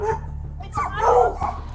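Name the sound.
dog barking and whimpering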